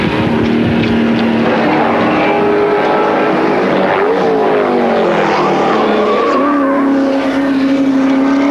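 A Holden Torana A9X race car at Bathurst's Mount Panorama in 1979 screams at full revs, its loud, continuous engine note rising and shifting in pitch through gear changes and never pausing.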